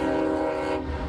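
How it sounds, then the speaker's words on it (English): A train rolls by near a vehicle dealership, a loud sustained rumble with a steady horn-like drone, close and continuous throughout. "You hear that train a rolling here at Akins"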